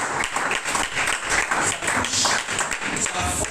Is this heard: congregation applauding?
yes